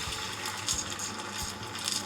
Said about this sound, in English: Pour the liquid into the frying pan